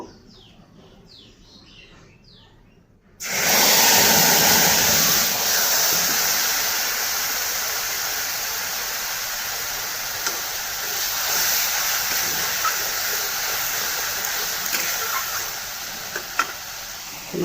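Spices frying in the oil left over from frying eggplant in a pan: after about three seconds of near quiet with faint chirps, a loud, steady sizzle bursts in and continues to the end.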